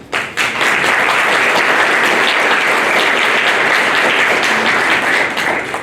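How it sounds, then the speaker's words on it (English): Sustained applause from a meeting audience recognizing a group for their work, rising quickly after a brief opening and holding as a loud, thick, continuous wall of clapping before easing slightly at the end. "I would ask y'all to give them all a round of applause"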